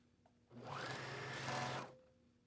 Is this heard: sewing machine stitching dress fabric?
yes